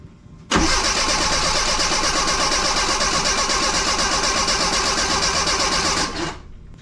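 Fuel pump being primed on a 1984 Bertone X1/9 fitted with fuel injection: a loud, steady mechanical whir runs for about five and a half seconds, cutting in and out abruptly, with no talking.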